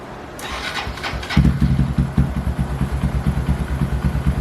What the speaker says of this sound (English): First time starting the big bore kit.